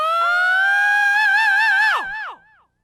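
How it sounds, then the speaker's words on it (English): Live vocal scream with a delay effect: a loud sustained wavering cry that cuts off sharply, followed by a quieter repeating echo tail that fades away. "So let's try adding a bit of delay."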